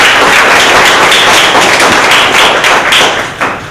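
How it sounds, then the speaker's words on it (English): An audience applauds the speakers at the close of a community engagement event, a dense, loud wash of clapping that holds steady and fades slightly near the end. "So please just have a round of applause for our speakers"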